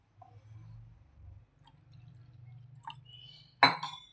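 Water poured into a spiced kadhi mixture, heard as a brief splash and liquid rush near the end after a quiet stretch with low background hum, close and fairly soft.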